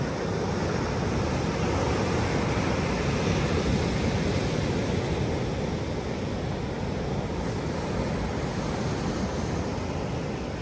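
Ocean surf rolling onto the beach at Harris State Park, a steady, loud, broadband wash of breaking waves with some wind rumble, continuous throughout with no voices.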